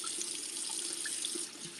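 Water runs steadily from a sink tap while a face mask is rinsed off, a constant close hiss with small splashy flickers and no talking.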